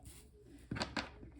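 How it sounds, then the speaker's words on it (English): Mourning doves calling outside, a faint low coo sounding in short soft bursts, distant and quiet against a still indoor room. "I don't know if you guys can hear the mourning doves outside."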